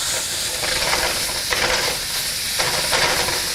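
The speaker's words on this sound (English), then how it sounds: "Now, in goes the ground beef. Okay, and we'll just break that up" Ground beef sizzling loudly in a hot pan as it is broken up, a steady frying hiss with periodic scraping stirs, no talking.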